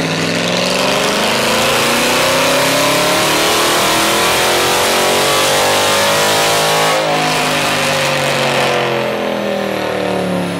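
A Dodge Challenger 392 V8 roars through a long, loud sweep up the rev range on a dyno, pitch climbing steadily for several seconds before easing off near the end.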